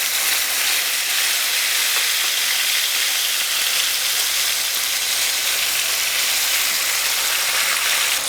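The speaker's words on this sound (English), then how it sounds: "so we have our pork chops searing." Pork chops sear in a hot pan with a steady, dense sizzling hiss that stays even and close throughout, with no talking.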